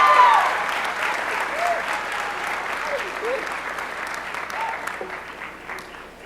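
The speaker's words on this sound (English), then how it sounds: "I'd like to give her a round of applause for her accomplishment." Steady applause from a room full of people at a high school awards assembly, clapping continuously and gradually fading, with a few faint voices underneath.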